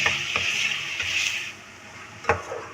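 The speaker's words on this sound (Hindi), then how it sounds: "अच्छा अब देखें लहसुन अदरक हमारा हो गया है बहुत अच्छे से फ्राई" Garlic, ginger, onion and meat fry in a pan for a bitter gourd and meat curry, giving a bright, steady sizzle broken by several sharp scrapes and clacks of a spoon stirring close by.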